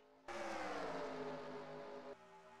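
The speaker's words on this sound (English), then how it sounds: "We can actually hear the engines now." Race car engines roar in NASCAR Racing 2003 at Atlanta, a sustained droning engine tone from a pack of cars that swells in suddenly, holds steady for about two seconds and then drops back to a quieter hum.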